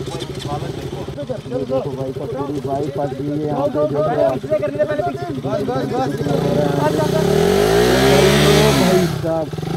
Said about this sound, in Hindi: अबू भाई की बाइक नहीं निकल रही है फंसी हुई है